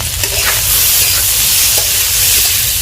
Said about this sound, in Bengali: যে ভাজাটা দিয়েছিলাম সেটা আমার হয়ে গেছে ভাজা।